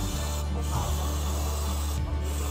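Compressed air sprays in a car engine bay to clear rat droppings and odor, a loud continuous hiss with two brief dips, close up and heard alone.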